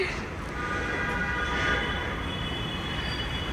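A Delhi metro train rumbles in with a steady roar and faint high wheel squeal, loud and continuous throughout.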